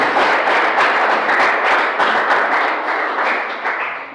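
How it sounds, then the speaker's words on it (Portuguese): A church congregation applauds in praise, a dense, steady wash of many hands clapping with a few audible beats in the rhythm, fading slightly toward the end. "Vamos aplaudir nosso Deus."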